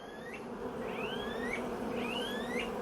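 Honey bees swarm and buzz around an opened hive with nine frames, a steady close droning hum with rising whines as individual bees fly near.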